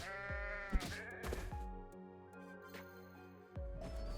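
Sheep bleat in a Hololive VTuber MMORPG game, several clear, drawn-out calls overlapping in quick succession, fairly quiet and with no talk.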